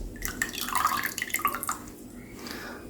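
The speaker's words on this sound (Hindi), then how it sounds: "अब इसमें मैं डाल दूँगी 2 लेमन का जूस" Lemon juice is poured into sugar water for mint lemonade, making a short run of light, close trickling and dripping sounds that patter unevenly for about two seconds before tapering off.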